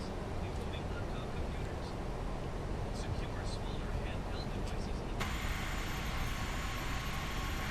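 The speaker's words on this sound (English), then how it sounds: "Surprised we're getting that much people noise from the cabin." Steady broadband cabin noise aboard an Airbus A321 in the X-Plane 12 flight simulator, with faint murmuring passenger chatter blended into a constant engine and airflow drone, continuous and moderately quiet throughout.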